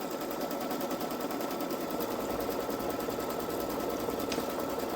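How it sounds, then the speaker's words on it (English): A Babylock Solaris embroidery machine stitches a placement line, a continuous, rapid mechanical needle chatter at steady volume throughout, close and unaccompanied by voices. "Stitch the first color. This is the placement stitch."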